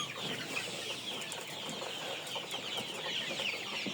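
Colour broiler chickens raised for meat on a poultry farm make a dense, continuous chatter of overlapping clucks and cheeps from many birds, filling the whole stretch at moderate loudness.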